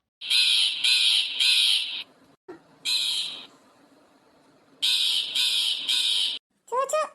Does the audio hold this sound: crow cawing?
yes